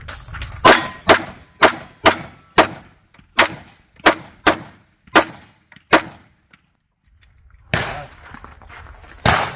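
A Canik Rival S pistol fires in rapid succession, about ten loud, sharp shots with ringing tails spaced in a rhythmic pattern, then a short pause before another cluster of shots, with no talking.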